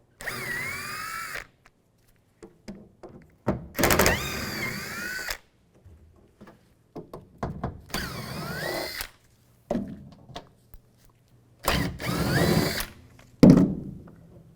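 On a 2007-2013 Chevrolet Silverado 1500 tailgate, a power driver with a T30 socket spins out the spoiler screws in four separate whirring bursts. Soft clicks and handling noises fill the quiet gaps between them, and nobody speaks.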